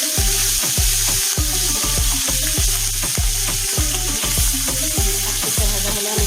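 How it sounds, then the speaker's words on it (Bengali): Hilsa fish frying in hot oil in a Bengali kitchen, a loud steady sizzle with repeated rhythmic low thumps and scraping as the pieces are moved, no voices. "এবার আমি গরম তেলের মধ্যে মাছটা দিয়ে দিচ্ছি।"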